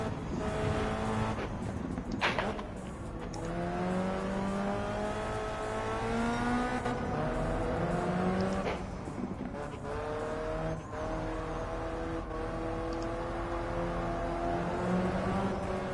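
Race car engine in Gran Turismo 7 multiplayer, revving and rising through gears in repeated sweeping climbs, with tire squeal and skids over a steady, loud drone that carries through the whole stretch.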